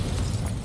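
A fiery burst from the Incendio spell in Hogwarts Legacy, a short dense whoosh of flame that stays loud and rumbling throughout its brief span.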